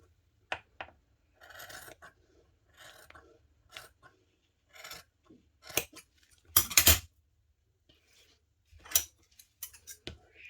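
Scissors snip excess paper while trimming a shabby-style heart-shaped scrapbooking photo album, a series of soft, close, irregular cuts separated by quiet pauses.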